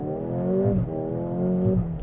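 A 2024 Mercedes-AMG GLA35 revving, its exhaust note rising in two loud, close surges of throaty engine tone with a brief dip between them.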